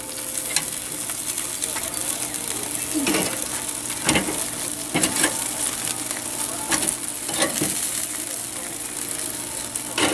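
Chicken thighs sizzle steadily on a Weber grill while being flipped, a loud continuous frying hiss broken by several scraping, clicking turns of the tongs or spatula.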